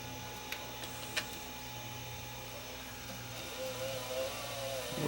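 A tape machine running in rewind with sticking tape gives a steady mechanical whir and hum with a couple of faint ticks, rising slightly in pitch and strain toward the end.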